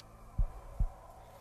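Heartbeat sound effect in the video game Dead Scope: two deep, thudding beats close together, evenly spaced over a low hum.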